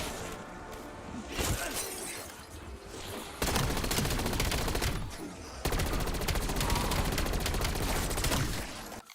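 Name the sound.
gunfire from a gun in Black Ops 7 zombies, video game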